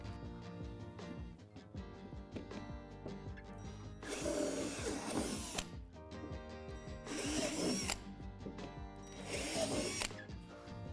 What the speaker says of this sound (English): drill out the three divots with a 3/8 drill bit.